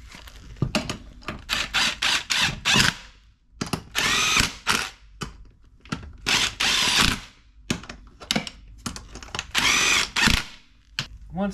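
Power tool tightening bolts on a Honda Rubicon/Foreman ATV during a CV axle swap, repeated loud bursts of a drill or impact driver with short ratcheting stops between them, close and with no talking.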